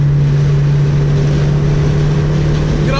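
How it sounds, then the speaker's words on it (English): Honda Civic Si engine under light throttle in sixth gear at about 72, giving a steady, loud drone with a strong low hum throughout and no talk. "I'm in 6th gear right now, right? 72. I give it a little bit of gas."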